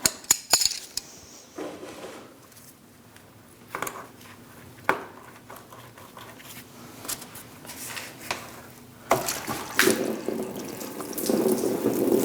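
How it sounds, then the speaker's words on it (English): Coolant drains from a radiator hose on a 2000-2006 Mini Cooper 1.6L L4 into a drip pan, a trickling splash with intermittent knocks and clanks of handling parts, growing louder near the end. "You are going to lose some fluid at this point."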